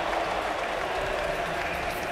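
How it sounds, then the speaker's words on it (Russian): Arena audience applauds and cheers at the Dota 2 Frankfurt Major grand final between Secret and OG, a dense, steady wash of clapping and crowd roar lasting about two seconds. "Они, овации, овации, то, чего я ждал."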